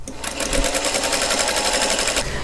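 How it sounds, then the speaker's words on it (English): A sewing machine stitches seams on a quilt block, running in one loud, close, continuous burst with a fast, even needle clatter that stops cleanly at the end. "So I've sewed these seams together"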